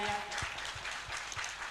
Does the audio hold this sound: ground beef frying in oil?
no